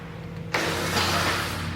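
A quiet electric hum from a 2020 Porsche Taycan 4S cuts in suddenly with a soft synthetic whoosh as Sport Plus mode engages, then holds as a steady low drone over a faint background tone.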